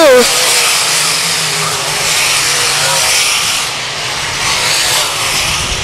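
Race cars at Lakeside Speedway roar around turn two, a steady loud engine drone with a brief rising whine at the start, with an announcer talking over it throughout.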